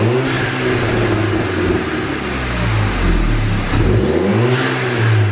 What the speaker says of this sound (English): let me show y'all what this and the blow-off valve sound together, also with the intake, so y'all can hear what that sounds like